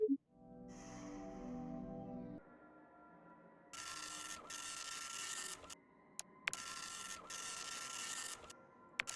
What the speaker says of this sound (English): The printer comes to a grinding halt again